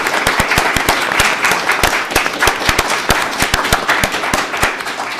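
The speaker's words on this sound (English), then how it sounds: "I think that we all have to give Lynn a big round of applause, too." At a town board meeting, the room breaks into a round of applause, a dense patter of many hands with sharp individual claps standing out close by, steady for several seconds.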